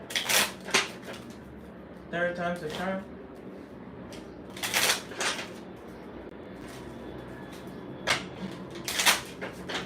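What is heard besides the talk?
shuffling a deck of cards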